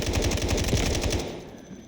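An AUG A3 rifle fires in the PS5 game Delta Force: a loud, rapid automatic burst of evenly spaced shots lasting just over a second, then cutting off into quiet.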